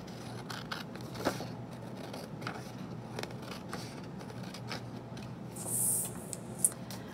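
Scissors snip through a sheet of origami paper, trimming the leftover rectangle off a folded triangle; soft, close, sparse clicks and short scraping cuts in a quiet room, with one brief brighter snip near the end.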